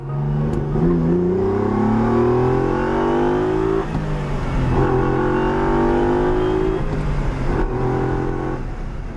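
A late-1960s Italian 2.4-liter sports car engine with Weber performance carburetors, in the Forza Horizon video game, revs loudly through rising gear pulls. It drops briefly around the shift, then climbs again, close and continuous, with no talk.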